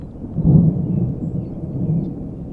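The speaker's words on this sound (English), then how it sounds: "thunderstorms hover over parts of Grant County like an endless nightmare" Deep thunder rumbles steadily through a thunderstorm in Grant County after a tornado, with a swelling low roll and no voices.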